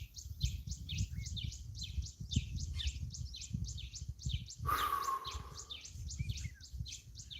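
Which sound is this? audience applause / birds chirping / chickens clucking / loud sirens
birds chirping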